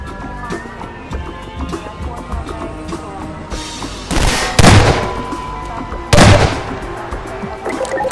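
The priest's shotgun in Half-Life 2 fires two loud, sharp blasts a couple of seconds apart. Someone talks over scattered in-game clatter and background noise.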